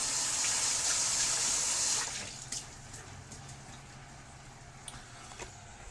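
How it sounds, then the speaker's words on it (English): Tap water gushing into a sink during handwashing, a loud steady hiss for about two seconds that then drops to a quieter trickle with faint splashes. "let me wash my hands"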